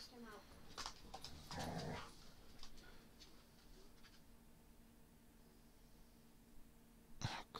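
Dogs barking and growling indoors, a few short bursts near the start and another at the end, mixed with throat-clearing sounds and a voice over a low steady hum.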